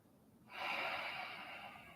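One long, steady breath drawn in during a standing yoga pose, a soft, close airy rush that starts abruptly and holds for over a second with no talking.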